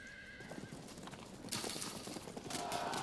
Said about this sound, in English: Our Nomad light horse archers are more than willing to get into the fight here with the enemy.